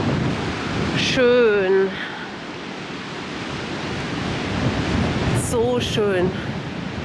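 Strong wind and rolling sea waves on a Baltic Sea beach on the Usedom peninsula make a steady, loud broadband roar. A voice speaks briefly over it twice.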